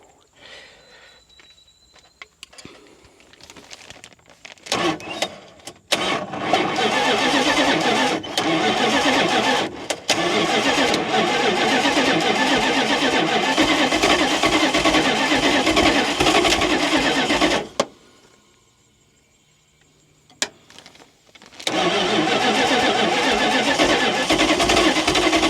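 A 1977 second-generation Dodge van engine, unrun for twenty years, cranking and catching, then running loudly and steadily, cutting out briefly and restarting. Little talk is heard.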